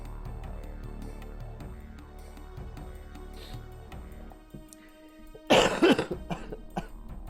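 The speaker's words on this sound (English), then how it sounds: "I was going to mute, and that cough just came." A sudden, loud burst of coughing close to the microphone near the end, over quiet game music and hum from a Shadow Madness play session.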